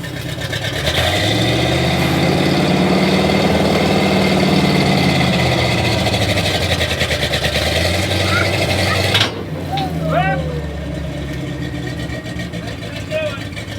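Off-road 6x6 vehicle engine straining as it drives, a loud rumbling drone with rising and falling revs that cuts out abruptly partway through, with people talking over and after it.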